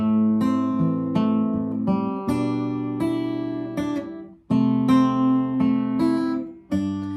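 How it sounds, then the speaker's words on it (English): Steady fingerpicked guitar chords ring out in a flowing, even pattern, each chord change marked by a fresh pluck, close and clear with no voices. "I'm simply holding the chords and finger picking up to this point."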